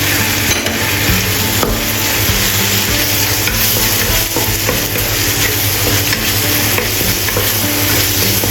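Tomato fried rice with corn kernels stir-fried in a hot pan, a steady loud sizzle with continual scraping and stirring throughout, no voices.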